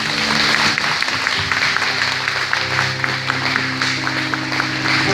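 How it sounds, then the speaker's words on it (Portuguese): Church congregation applauding, a steady wash of clapping held over sustained low musical tones, moderately loud and continuous throughout. "Vamos aplaudir a Deus, gente?"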